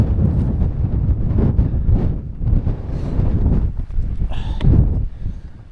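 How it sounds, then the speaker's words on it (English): Strong wind buffets the microphone at a summit camp in the Lake District, a dense, low, continuous rumble with gusting swells and a brief rattle, loud and close with no voices. "it's still quite windy here."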